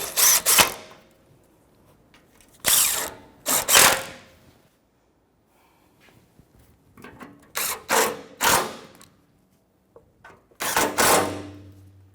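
A ratchet snugs up the alternator bolts on a 2005-2021 Nissan Frontier with the 4.0L V6. Several short, sharp bursts of clicking are separated by quiet gaps. The sound is close, with no voices.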